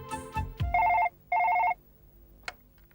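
A telephone rings in two even electronic bursts, close and clear, with some faint handling clatter before and a soft click after.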